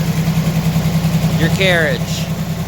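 An engine drives a 1907 American No. 1 sawmill, giving a steady, even idling thrum in the background while someone speaks briefly over it.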